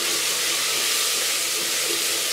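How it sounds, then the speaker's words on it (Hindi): Ginger garlic paste sizzles in a pan with other ingredients for chana pulao; a steady, close hiss of frying continues throughout, with no talking. "अदरक लहसुन का पेस्ट 1 चम्मच भर के ये भी मैं इसमें डाल दूँगी।"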